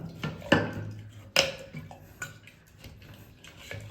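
Homemade Kerala-style gooseberry (nellikka) wine stirred in a jar, with a few sharp close clinks of the spoon against the glass and softer scraping and sloshing between them, no talk.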